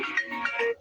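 A mobile phone ringtone plays briefly, a short electronic melodic phrase, clear and moderately loud with no voices.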